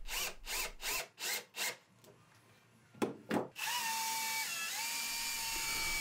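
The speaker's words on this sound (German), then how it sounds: "Nun die Schraubenköpfe versenken und die vordere Wand mit den beiden Schrauben verbinden." A drill countersinks screw heads and then drives screws into the front wall of a wooden nest box, heard as a quick row of short pulsing bursts followed by two sharp hits and a steady close whir as a screw goes in.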